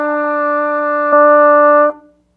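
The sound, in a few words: trumpet playing beginner exercise number 5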